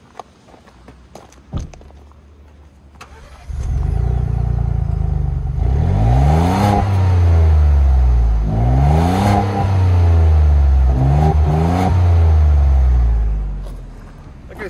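A Ford Bronco engine idles, then revs in repeated rising and falling sweeps for about ten seconds, a close, loud, airy whoosh that sounds more like a vacuum cleaner than a deep exhaust.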